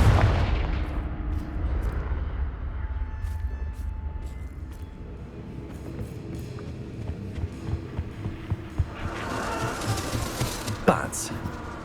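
A Confringo blasting spell is cast in Hogwarts Legacy on PS5, producing a loud fiery blast followed by crackling, rumbling impacts and scattered bursts under game ambience, ending in another sharp burst.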